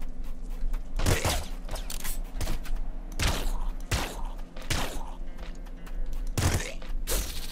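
SMG gunfire in the video game Nuclear Throne, a series of sharp, punchy bursts with thuds, fired in irregular clusters over steady background game noise.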